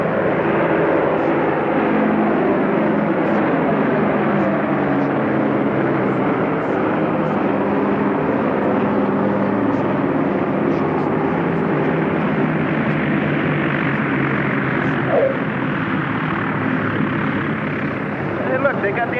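Propeller aircraft descending to land with full flaps extended, giving a loud, steady engine drone that holds unbroken for the whole stretch.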